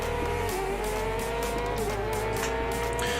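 A motorcycle's tire squeals under heavy front braking in a racing video game, a steady screech riding over a loud, continuous engine roar that dips and swells as the bike slows.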